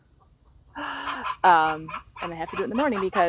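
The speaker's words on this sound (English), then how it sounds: "I will apologize in advance if you hear my chickens in the background." Homestead chickens cluck and sing morning egg-laying calls in loud, close bursts, while someone talks over them.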